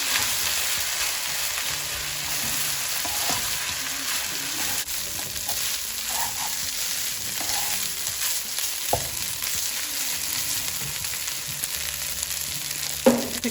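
Thai chicken fried rice being stirred and fried in a pan gives a steady, moderate sizzle throughout, broken by intermittent scraping strokes and a few sharper knocks of the utensil, close and without talk.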